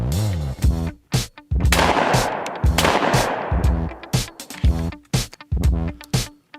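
Franchi Instinct Side Plate 12 gauge over-under shotgun fired at close range: many loud, sharp blasts in uneven pairs and bursts, each with a short echoing tail, and no talk.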